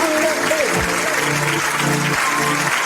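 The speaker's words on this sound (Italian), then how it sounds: "Un applauso!" An audience applauds during an Italian music television show, with clapping spread across the whole short stretch under a strong tonal voice or music line.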